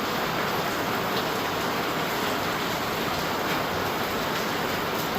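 Heavy rain pours down in a dense, steady hiss that stays constant and loud throughout, with no voices or other sounds breaking through.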